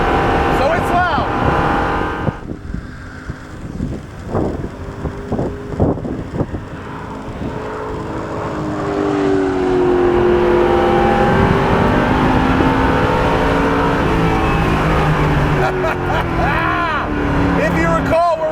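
A 2015 Chevrolet Camaro Z/28 race car running on track with catalytic converters but no mufflers, its loud engine rising and falling through gear changes before a long climbing wail, wind buffeting the microphone while a driver talks over it.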